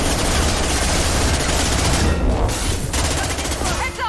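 Dense gunfire in Mass Effect 2 Legendary Edition, with loud rapid bursts and overlapping shots filling the whole stretch, close and sustained, and a brief thinning partway through.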